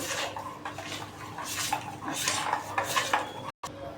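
A spoon scrapes and clinks against a metal bowl while panipuri masala is stirred in, a run of irregular close scraping and tapping sounds with one brief drop to silence near the end.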